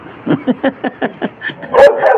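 A dog barks in a rapid series of about eight close, loud yaps at a house in the Philippines, ending in a higher, more strained yelp.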